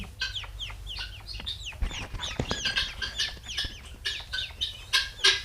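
Many quail call at once on a quail farm, a dense chorus of short chirps and clucks repeating throughout, close by with a steady low hum underneath.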